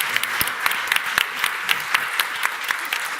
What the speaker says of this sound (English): Let's please give our panel a very warm round of applause.